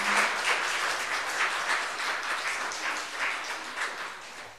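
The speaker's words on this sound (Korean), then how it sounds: "다시 한번 박수로 응원하는 시간 갖겠습니다." Steady applause from a church congregation, many hands clapping together at an even intensity for several seconds with no voices over it.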